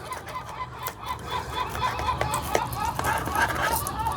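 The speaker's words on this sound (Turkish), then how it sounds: "Martılar da bana katılıyor bak." Seagulls call repeatedly in the distance outdoors, their honking cries recurring over a steady background of ambient noise and faint babble while a cactus is being repotted.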